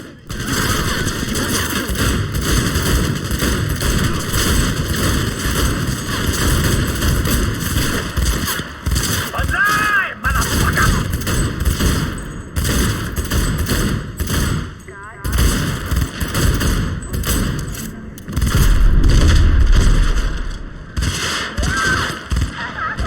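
Gunfire and explosions from a firefight in the video game Cyberpunk, with dense rapid shots and heavy thumps running continuously under game music, with a few louder booms near the end.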